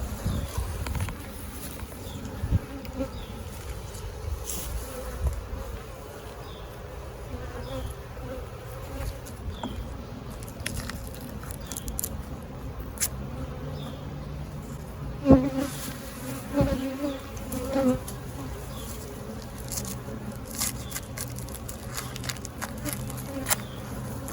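Honeybees buzzing in an open beehive during an inspection after a FormicPro treatment: a dense, steady hum with close individual buzzes passing by, and some handling clatter, without talk.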